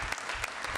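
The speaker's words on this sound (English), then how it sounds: "let's give him a round of applause" Audience applause at a city council meeting, a short dense burst of clapping from a room of people, fairly quiet and steady.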